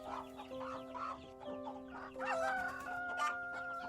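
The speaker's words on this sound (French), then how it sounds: "Les coqs entonnent leurs chants stridents avec une vigueur débordante" Roosters crow over a steady background hum, with clucking chickens and one loud, drawn-out crow rising near the end.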